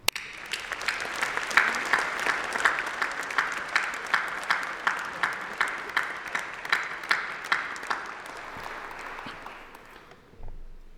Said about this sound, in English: join me, please, in a massive round of applause for all those special people, your family, your friends, and your tutors